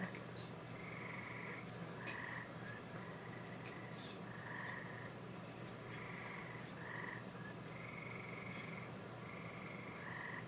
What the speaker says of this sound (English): what to me sounds like frogs out there.